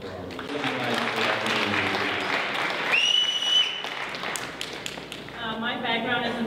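A studio audience claps at a live business pitch event, a dense burst of applause that swells and then thins, with people talking over it and a brief tonal whistle-like sound partway through.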